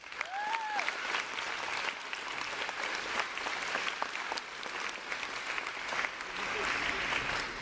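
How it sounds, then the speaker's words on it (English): Steady applause from a school audience fills the room, a dense patter of clapping that carries on without pause. "Can you please just give a round of clap to yourself and the teachers?"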